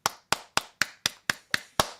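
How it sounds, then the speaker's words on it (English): Eight sharp, evenly spaced claps ring out one by one at a quick steady rhythm, close by and fairly quiet, with no voices in between. "We will clap for you."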